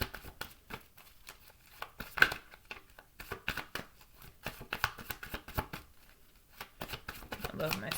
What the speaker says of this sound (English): go ahead and do another one of these shuffles really quick